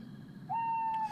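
An owl in the Boogeyman game gives a single clear, sustained hoot that rises and then holds steady over quiet ambient background, with no one talking.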